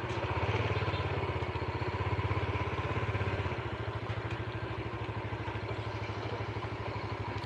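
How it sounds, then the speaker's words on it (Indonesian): Yamaha Jupiter Burhan motorcycle engine idling with a rough, rattling knock, a steady fast pulsing clatter heard close up, slightly louder in the first half, with no talk. "tapi suara mesinnya jadi kasar, kempletek, jadi kempletek gitu."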